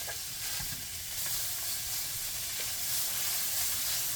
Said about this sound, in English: Put the minced meat into the pan and then break them into small pieces